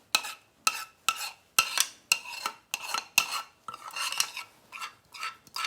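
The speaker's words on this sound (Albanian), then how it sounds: "Ta mbajmë me përzierje" A spoon stirring white sauce into vegetable and chicken broth in a pot, heard as a rapid series of close, scraping strokes, roughly two per second, with no talking.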